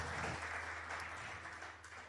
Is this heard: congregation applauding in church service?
yes